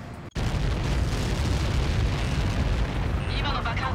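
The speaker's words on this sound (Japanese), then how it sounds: "今の爆発で何機巻き込まれた。" A massive explosion in the air-combat video game Ace Combat 7 erupts after a brief silent gap into a loud, sustained rumbling blast that roars on for several seconds.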